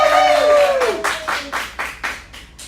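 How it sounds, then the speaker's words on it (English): A voice opens briefly, then a modest audience at a beach broadcast interview with a senior pageant queen claps in a loose, fairly regular rhythm, individual claps distinct and moderately close. "Let's have a nice round of applause for Maureen Griffin."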